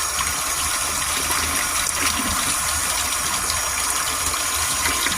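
Steady rush of kitchen tap water running while a chicken egg is washed, loud and continuous at close range with no voices.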